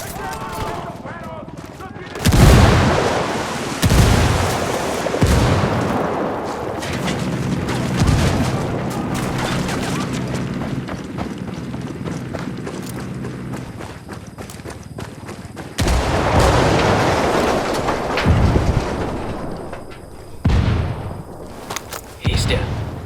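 A frag grenade explodes in Ghost Recon Wildlands amid repeated gunfire, heavy booms and bursts spread through a long stretch of loud combat noise, with a louder blast partway through.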